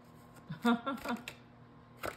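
Tarot cards being shuffled by hand in a few quick, soft riffling bursts of papery flutter, near and fairly quiet, with faint speech around them.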